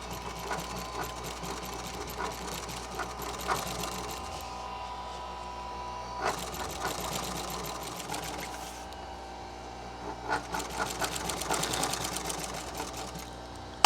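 A sewing machine stitches upholstery rolls and pleats for a 1959 Ford Galaxie in long runs of steady mechanical whirring, pausing between bursts, close and fairly loud with no talking.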